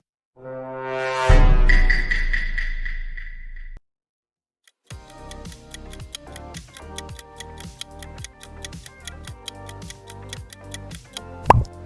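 Among Us video game logo sound: a bright, swelling synth chord rings for about three seconds and then cuts off. After a short silence comes a steady run of crisp ticking beats over a low pulse. No talking.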